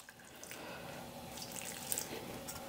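A little water poured into a meatball mixture seasoned with rosemary, making a soft, steady trickle and splash close by, fairly faint, with no talk.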